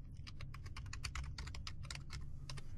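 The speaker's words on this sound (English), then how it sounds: "So if I type in" Rapid typing on a computer keyboard while entering a group name into Windows share permission settings, a steady run of close, crisp key clicks with no talking.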